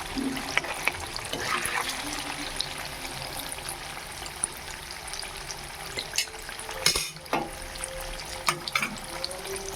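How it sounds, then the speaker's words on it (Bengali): Paneer cubes frying in a pan for a shahi paneer, a soft, steady crackle of oil close by with a few brief clinks of utensil near the middle. "প্রথমে আমি হাফ পনির দিয়েছি, দিয়ে ভেজে নেব একটু"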